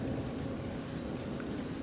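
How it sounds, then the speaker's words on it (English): Rain falling outdoors, a steady broad wash of patter with a low rumble beneath it and no voices, fairly close and even throughout. "A bit more rain coming now,"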